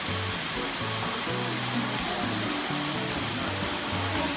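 Top Gay Waterfall at a Philippine mountain resort pours in a constant broadband roar, loud and close, with faint low tones drifting underneath.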